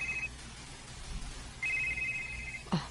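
A telephone rings in two bursts, a short trill and then a longer sustained one, followed by a clunk as the receiver is picked up.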